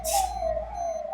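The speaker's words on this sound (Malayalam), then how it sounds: "ആംബുലൻസ് പോകുന്നു." An ambulance siren wails as a steady tone from a street near a vehicle workshop, fairly loud, with a brief hiss at the start.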